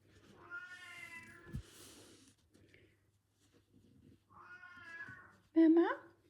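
A pet cat meows loudly at close range, two drawn-out calls separated by a pause, with a short sharp squeak near the end and faint background noise.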